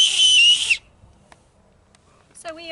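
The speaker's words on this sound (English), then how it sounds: "So I've got my acorn whistles in case I get lost." An acorn whistle blown outdoors in Canyonlands National Park, Utah, gives one long, loud, shrill blast. After a quiet gap, a shorter, higher tonal burst follows at the end.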